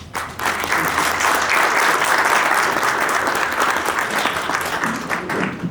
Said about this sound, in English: another round of applause to the panel and moderator